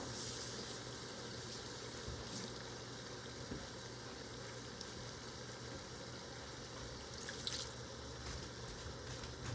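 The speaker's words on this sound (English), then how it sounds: "I'm going to add a little water in here to get all this goodness out." Faint, steady stream of water running into a container, continuous low rushing with a light clink near the end.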